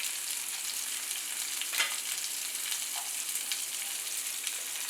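Eight or nine garlic cloves fry in hot oil in a pan, giving a steady soft hiss and crackle with a few brief stirring scrapes, fairly quiet and close, with no talking.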